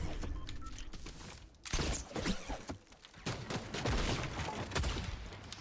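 Fortnite gunfire from ranked Reload play: bursts of rapid shots and fusillade-like cracks fill most of the stretch, loud and close, with a brief lull early on and no talk.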